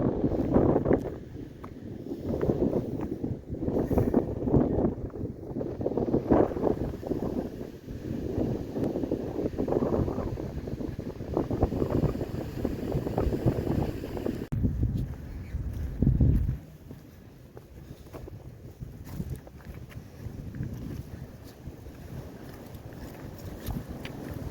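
Wind on a cold day outdoors at a Connecticut nature preserve, a steady roaring rumble buffeting the microphone in gusts, strong for most of the stretch before easing to a softer hiss near the end.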